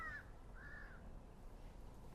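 A young crow gives two short, thin caws outdoors, faint and a little distant over steady low background rumble, with no talking.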